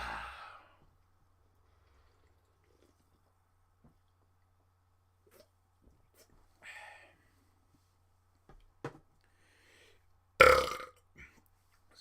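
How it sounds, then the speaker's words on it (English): After a swig of Irn-Bru, a man lets out a single loud, close burp near the end, following long quiet stretches with a few faint breaths and small mouth noises. "Can't beat a good burp."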